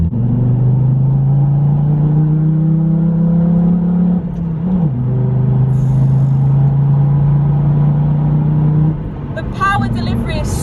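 220 bhp diesel Volvo C30 driving along, with a steady low engine drone and rumble inside the cabin and a brief dip in pitch as the load changes, loud and continuous.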